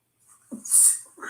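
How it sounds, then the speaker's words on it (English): A single short sneeze: a faint intake of breath, then a sharp, hissy burst of air, followed by a brief breathy trail. "I usually sneeze twice."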